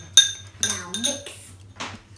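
Utensils clink and scrape against a bowl while a sunflower microgreens salad with dressing is mixed, a few close, bright knocks spread over two seconds.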